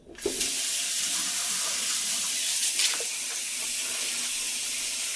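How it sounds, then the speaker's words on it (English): Cold water running steadily from a tap into a sink, a continuous broadband splashing hiss that starts abruptly and holds at an even, close level throughout. "Cold water."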